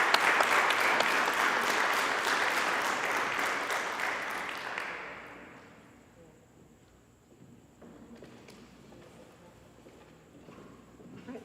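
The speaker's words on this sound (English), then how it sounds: "Could we give her a round of applause again for her fabulous presentation?" After an evening keynote presentation, an audience gives a round of applause that is full and steady for about five seconds, then dies away into quiet room noise with faint shuffling.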